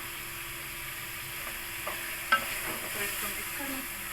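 Potato, fenugreek and carrot being stirred in a frying pan: a soft, steady sizzle with a few spoon scrapes and clinks, close and fairly quiet, no talking.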